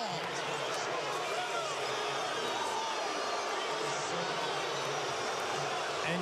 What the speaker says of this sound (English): you can hear the crowd here at Target Center